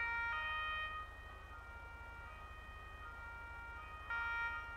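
Police car sirens in GTA V during Italian state police roleplay, a steady electronic wail that drops in intensity midway and swells back up near the end, with no talk.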